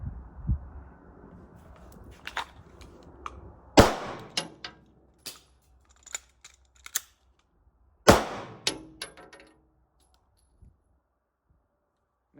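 Sig Sauer P320 pistol firing 115 grain UMC range ammo, two sharp loud shots about four seconds apart, each followed by brief clatter and clicks, with a low hum early and quiet between.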